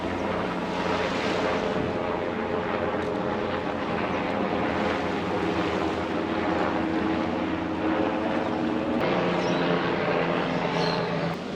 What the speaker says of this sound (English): The whole sky is just filled with rescue helicopters